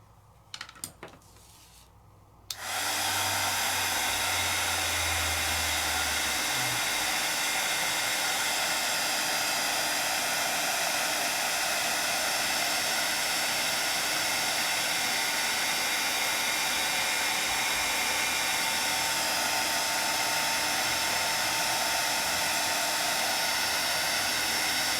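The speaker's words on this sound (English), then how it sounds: "I'm moving my heat tool" A craft heat tool blows loudly and steadily while heat-setting embossing powder. It switches on after a few seconds of quiet handling and then runs as a continuous broadband roar.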